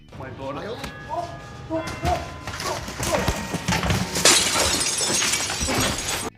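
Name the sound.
fake glass shattering in The Irishman film scene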